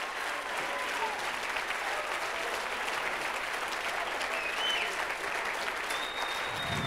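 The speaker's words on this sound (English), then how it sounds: "Let's clap for him. Let's clap for him." A church congregation applauds at a worship service, a steady, dense wash of many hands clapping together that holds at an even level throughout, with faint voices mixed in beneath it.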